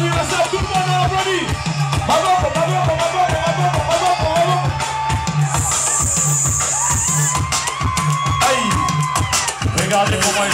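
Loud crowd of wedding guests in a reception hall cheering and whooping for the couple's entrance, with a steady thumping music beat underneath and voices shouting throughout.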